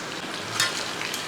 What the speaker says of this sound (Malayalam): ബാക്കിയൂടെ നമുക്ക് അതുപോലെ തന്നെ വറുത്തെടുക്കണം.